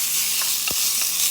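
Rava khichadi being stirred in ghee in a pan, with a soft steady sizzle and a single scrape of the spoon, no talk.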